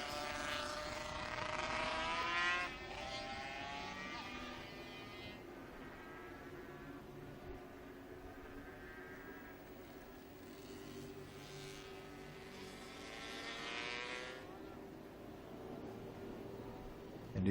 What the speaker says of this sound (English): Again, the 50cc bike.